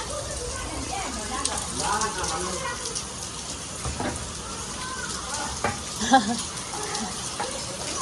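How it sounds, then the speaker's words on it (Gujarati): Steady hiss of rain falling on a surface during a wedding gathering, with people talking over it throughout. "વરસાદ આવ્યો"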